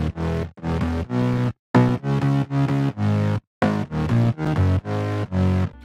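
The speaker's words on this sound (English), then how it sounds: "together the mid basses sound like this." Layered mid bass synths in FL Studio with very low and some high frequencies cut, chopped buzzy notes in a bouncy rhythm with brief gaps, loud and close with no voice.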